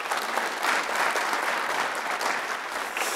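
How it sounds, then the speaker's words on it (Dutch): Audience applause at a student election debate at Tilburg University, a steady dense clapping from a crowd filling the whole stretch at even loudness, with no speech over it. "Mag ik een wereldstedelijk applaus voor deze dag?"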